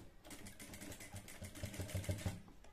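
A sewing machine stitches a collar onto a v-neck garment, a quiet, rapid run of mechanical ticks and hum that quickens toward the end.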